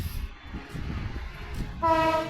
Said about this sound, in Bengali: মোটামুটি ট্রেন যাচ্ছে